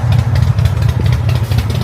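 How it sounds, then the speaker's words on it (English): A loud motorcycle engine rumbles close by on a San Francisco street, a steady low idle with slight fluctuations, no voices. "there's this loud motorcycle right here"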